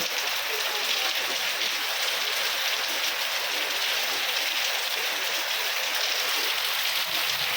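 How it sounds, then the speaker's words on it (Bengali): Steady, heavy rain falls continuously during a thunderstorm in Dhaka, a dense even hiss of drops on surfaces with no voices heard. "বৃষ্টির শব্দ শুনতে পারতেছেন"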